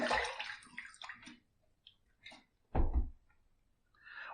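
Water splashes in short bursts as a Yates 921M safety razor with a hybrid plate is rinsed, close by, with quiet gaps and one louder splash near the middle.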